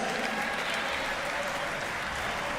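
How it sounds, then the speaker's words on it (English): A crowd applauds a skateboarder at the X Games Simple Session 2023 skate finals, a steady, dense roar of clapping and cheering that stays loud and unbroken from start to finish. "Big round of applause, thank you."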